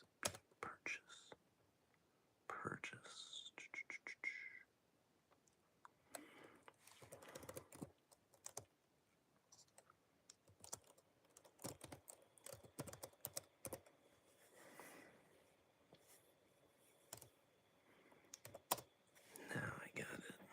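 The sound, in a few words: typing on a computer keyboard while coding in Java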